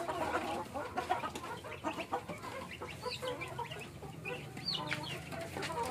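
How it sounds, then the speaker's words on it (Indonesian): Black chickens cluck softly at close range in a backyard garden, a scattered series of short clucks and chirps over faint outdoor background noise. "Sing iki jenis ayam ireng iki"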